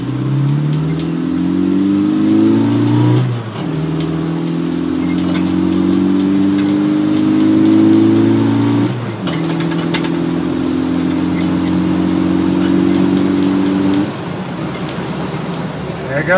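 A zombie truck engine revs loudly and close by, climbing in pitch in repeated surges with short drops between them. A person talks over part of the engine noise.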